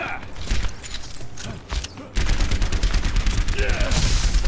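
Rapid turret gunfire in an Overwatch match, a dense loud stream of shots that swells after a brief lull and keeps going, with muffled voices and game effects around it.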